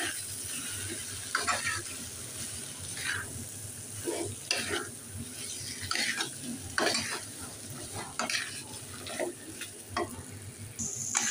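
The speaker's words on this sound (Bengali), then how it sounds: "এবার আমি ভালো করে নেড়ে চেড়ে নিচ্ছি, ভালো করে ভেজে নেব।" Mashed potato is stirred and fried in a hot pan, with a steady sizzle under repeated scraping and clacking strokes of the spoon against the pan, close and continuous.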